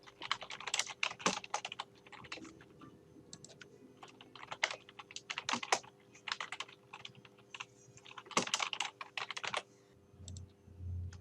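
Fingers tap out text on a computer keyboard in uneven bursts of quick, crisp key clicks separated by short pauses, close and fairly quiet, with a few heavier keystrokes and a faint low thump near the end.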